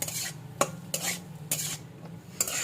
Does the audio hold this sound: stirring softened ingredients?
yes